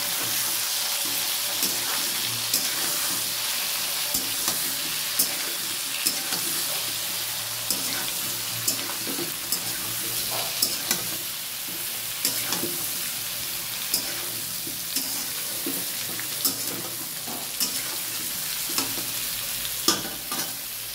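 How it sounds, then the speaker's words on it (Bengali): Cauliflower fries in a hot pan for potato-cauliflower curry, a steady, dense sizzle that continues throughout, with faint scattered clicks of a utensil stirring now and then. "ফুলকপিটা ভাজতে দিয়েছি"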